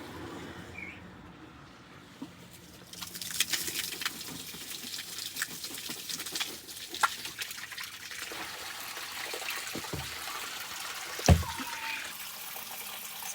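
Aquarium water from a Lake Malawi cichlid tank flows fast out of a hose pipe, a quiet continuous splashing and trickling with a few sharper drips and small knocks.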